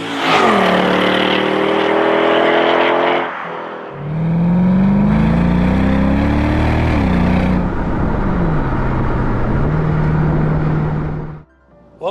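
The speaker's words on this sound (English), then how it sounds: "let's address the first thing you all want to hear, and that's that V8" The 5.4-litre V8 of a Mercedes-Benz SLK55 AMG revs loudly and close, with a rising snarl, a brief dip, a second long climbing rev and a settling drone before it cuts off.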